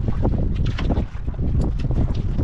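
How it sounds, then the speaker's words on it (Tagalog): Wind gusts roar steadily across the microphone, loud and buffeting, with a faint rushing of water underneath. "Medyo naglakas na yung hangin pero hindi ganun kalakasan"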